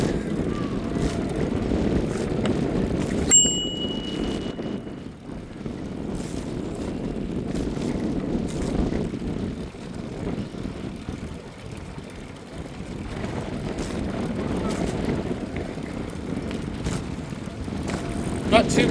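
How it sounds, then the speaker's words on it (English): Wind buffets the microphone in a steady, moderately loud rush throughout a bike ride uphill under darkening skies, with someone speaking briefly. "It is windy, isn't it?"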